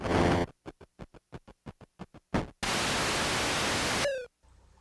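Glitch static from the Atari computer game Pathfinder as it freezes: a run of short, evenly spaced electronic clicks, then a loud, steady burst of harsh white-noise hiss lasting over a second that cuts off abruptly into faint buzz.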